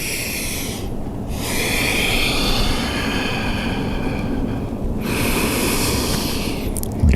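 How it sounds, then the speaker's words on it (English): Deep, loud breathing during yoga in child's pose, heard close up as long airy breaths, broken by short pauses near one and five seconds, with no talking. "Take a breath"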